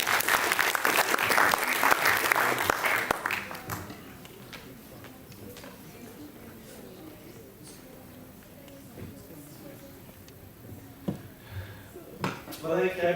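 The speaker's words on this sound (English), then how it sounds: "Let's give a warm round of applause." School exhibition audience applauding for a principal, a loud burst of clapping for about three seconds that fades into quieter room noise with scattered claps and footsteps, then a few sharp claps return at the end.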